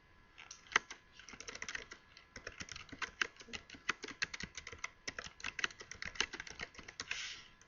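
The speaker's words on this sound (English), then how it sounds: "now I can type in here my note." Note being typed on a computer keyboard: a steady run of quick, light key clicks with irregular rhythm and occasional heavier strikes, close and fairly quiet, with no talking.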